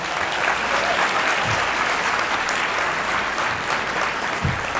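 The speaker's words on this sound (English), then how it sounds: "Let's give him a big round of applause." Audience applauding a young musician at a gala presentation, a dense and steady roar of clapping that stays loud and even throughout.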